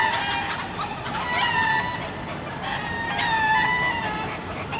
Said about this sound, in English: Chickens, duck, look at them. Chickens, duck, roosters.